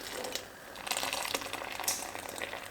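Kashmiri kahwa chai strained through a strainer and poured, a steady close trickle and splash of liquid with brief louder gushes, no talking.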